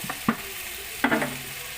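Beef and broccoli stir fry in a pan with sesame oil, stirred with two distinct scraping strokes over a steady sizzling hiss, close up and fairly loud.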